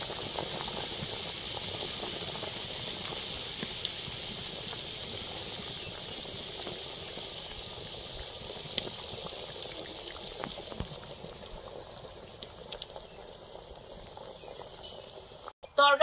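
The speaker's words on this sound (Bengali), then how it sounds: "তরকারিটা এবার ভালো করে ফুটিয়ে নেবো" Silver carp fish curry with mete alu fruit simmering in a pot over a village-style fire, a steady soft bubbling hiss that runs continuously with faint clinks and crackles.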